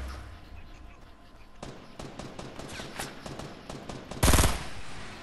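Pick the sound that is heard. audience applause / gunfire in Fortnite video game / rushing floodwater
gunfire in Fortnite video game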